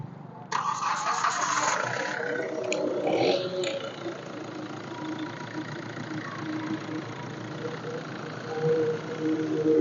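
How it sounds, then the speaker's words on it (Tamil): A Hyundai i20 diesel car engine idles steadily for the whole stretch, with a low continuous rumble and a brief mechanical rattle near the start. "இப்போ வண்டியோட இன்ஜின் சவுண்டை பார்த்தீங்கன்னா நம்ம லைவாக கேட்டுருவோம்"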